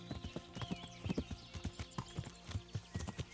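Horse hooves gallop in the video game Kingdom Come Deliverance, a rapid, continuous clip-clop rhythm of thudding hoofbeats, close and steady, with faint ambient noise beneath.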